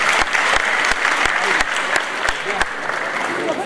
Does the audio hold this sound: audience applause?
yes